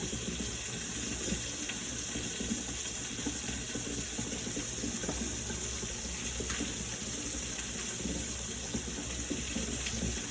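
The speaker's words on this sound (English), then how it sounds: "rinse them in this cold water and shock them" Cold water gushes steadily from a kitchen tap over freshly cooked potatoes in a sink, a constant close splashing rush with no pauses for the whole stretch.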